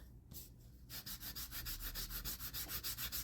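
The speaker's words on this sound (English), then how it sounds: "Just like that, kind of rub it in." Fingertip rubbing ink or pastel into a mushroom index card, a soft, rhythmic dry scrubbing of about ten quick strokes, faint and close with no voices.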